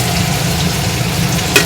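Onions frying in a home kitchen pan for a fish-head dal, giving a steady, even sizzle close up with one brief scrape near the end and no talking.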